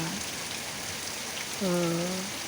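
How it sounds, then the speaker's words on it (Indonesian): Rain falls steadily, heard from inside a room, a soft continuous hiss of drops; near the end a brief tonal voice-like sound rises over it. "Tapi karena hujan ya di kamar sambil menikmati melodi hujan yang sungguh luar biasa"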